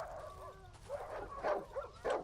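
Dogs yip and whimper in a dog-infested barn in the horror game Darkwood, several short bursts coming close together, fairly faint.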